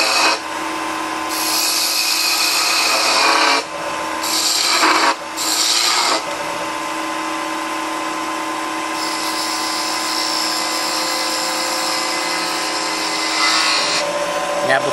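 Wood lathe turns and shapes the top cap of a holiday ornament, with a loud, steady high-pitched scraping and whirring as the tool cuts. Brief breaks occur as the cut pauses, then it runs continuously.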